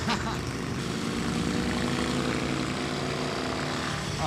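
A Harley-Davidson custom "Grasshoppster" motorcycle engine pulls with deep low-end torque, a steady, loud drone filling the moment with no pauses.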